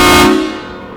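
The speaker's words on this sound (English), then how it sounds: "That was the train horn." A train horn mounted on a Humvee blasts once, loud and close, a brassy chord that peaks early and then fades over about a second.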